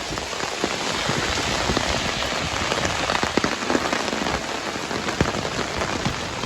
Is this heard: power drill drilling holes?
no